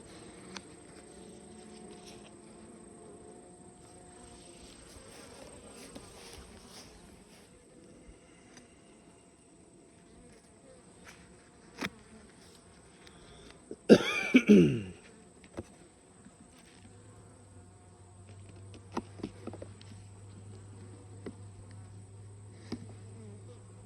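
Honey bees hum and buzz softly in an open hive where new comb is being built, a faint steady drone with a brief louder burst near the middle and occasional small bumps and clicks.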